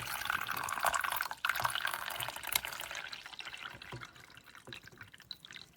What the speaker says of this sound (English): I'm gonna pour in the water up to the max fill line.